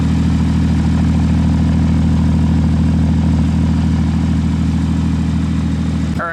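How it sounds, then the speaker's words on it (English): A Porsche 981 S fitted with an Agency Power catback exhaust idles steadily, a loud, deep, throaty burble holding even throughout, recorded close with no voices. "The idle is super, super throaty, and what's cool is that you can hear it from a pretty good distance away."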